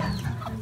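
Chicks cluck and peep beside a table at a traditional restaurant in Côte d'Ivoire, a short continuous burst of close fowl chatter over steady background noise.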